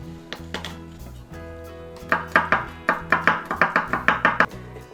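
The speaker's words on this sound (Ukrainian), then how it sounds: "Часник подріблюємо." Garlic cloves chopped with a knife on a cutting board while making a Korean-style zucchini salad, a run of quick close rhythmic blade taps with a few scattered cuts first and then a steady burst over a low background hum.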